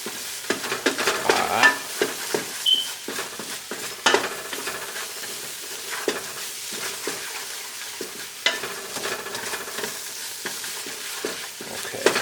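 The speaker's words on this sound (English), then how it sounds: "We're going to stir well here." A spoon stirs chickpea curry with nutmeg and cinnamon in a pan, giving soft scraping strokes with a faint sizzle that runs steadily from start to finish, close by and moderately quiet.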